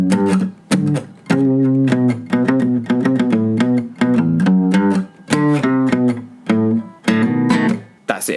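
Acoustic guitar plays the intro riff of a song, a loud, busy run of picked notes and chord hits in repeated phrases with brief gaps, solo with no voice.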